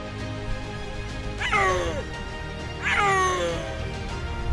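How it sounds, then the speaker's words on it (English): Snow leopard's piercing yell call: two loud, wavering, downward-sliding cries about a second and a half apart over a low background rumble, no talking. "The primary call of snow leopards is a piercing yell that is so powerful that it can be heard over the sound of a"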